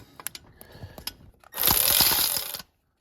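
Ratchet tightening header bolts on a 5.4-liter Ford F-150, a few soft clicks and taps first, then a loud, fast, buzzing run of ratchet clicks lasting about a second before stopping dead.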